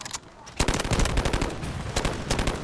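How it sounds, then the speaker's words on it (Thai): AK-12 rifle fired in the mobile shooter Delta Force Mobile: a burst of rapid automatic shots starts after a short lull and runs nearly continuously, loud and close, with a few brief gaps between strings of fire. "ยิงเต็มเลย ยิงฟรียิงฟรี"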